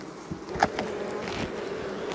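Honeybees buzz continuously close by around an open hive during a honey harvest, a dense droning swarm with a few louder passes near the ear.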